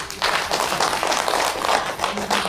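A crowd at a winter blanket distribution event for elderly and needy people claps together in a short, lively burst of uneven hand claps, fairly close and steady for a couple of seconds.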